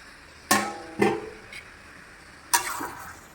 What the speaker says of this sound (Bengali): এইবার আমি আলু পটলটা দিয়ে ভালো করে কষাবো।